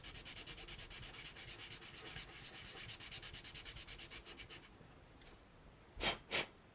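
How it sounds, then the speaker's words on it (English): Sandpaper scuffs a plastic surface on a model RC water or gas jerry can. Quick, even rubbing strokes run for several seconds, then two louder separate scrapes follow, close and alone. "give it a little scruff up with the sandpaper"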